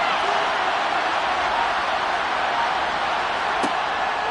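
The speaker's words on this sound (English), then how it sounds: "That just means this crowd's going to get even louder" Dense stadium crowd roar from a Madden 23 football game between the River Hogs and Dreadnoughts, a steady loud wash of cheering voices with a brief sharp accent near the end.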